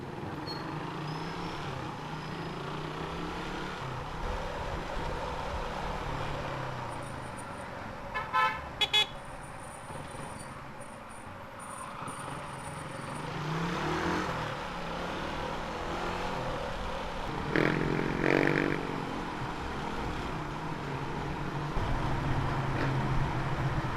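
Street traffic in Cebu with car engines and revving, passing vehicles and a few short car horn toots rising above a steady background roar.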